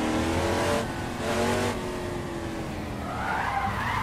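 A race car in a VR racing game skids and drifts through a corner, a sustained close tire squeal over a droning engine note, with a rising whine toward the end.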